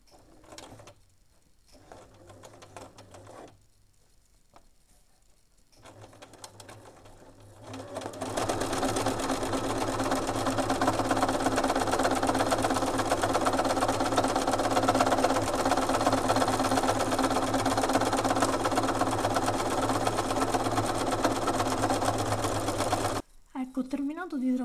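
A sewing machine stitches steadily for about fifteen seconds during free-motion quilting with a free-motion foot, a loud continuous mechanical hum and rattle that is preceded by a few short bursts and brief pauses.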